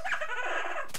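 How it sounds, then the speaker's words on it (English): Brief clucking calls of birds in the video game Minecraft, a short close fowl-like sound of about a second. "Oh, look, nice birds."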